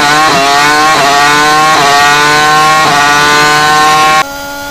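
A Formula 1 car engine, loud and close, screams at high revs and drops back several times in rhythmic gear-change steps before cutting to a lower steady drone at the end.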